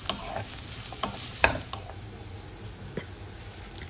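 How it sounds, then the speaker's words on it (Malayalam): Chicken and vegetables are sautéed in a pan with a soft, close sizzle, broken by a few sharp clicks and scrapes of a spatula stirring the food, fairly quiet and without talking. "ഈ ചിക്കൻ ഏകദേശമൊക്കെ ഒന്ന് ആയി, അതിലേക്ക് ഇനി പച്ചക്കറി കൂടെ ഒന്നിട്ടിട്ട് ഒന്ന് വഴറ്റിയെടുക്കുക"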